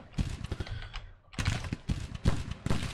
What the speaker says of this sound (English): The cannons are still firing.